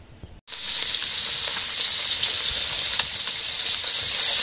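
Fish frying in a pan while cooking outdoors in a village, with a loud, continuous hissing sizzle that starts abruptly after a brief quiet moment and then holds steady.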